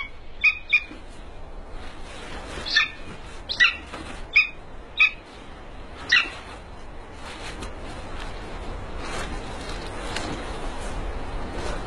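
A captured eagle gives a series of sharp, high calls in short bursts, several in the first half, then a steady background hiss with no voices.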